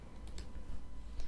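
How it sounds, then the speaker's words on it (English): A few quick keystrokes on a computer keyboard, faint and close, with scattered soft clicks over a low background hum. "I'm going to type in"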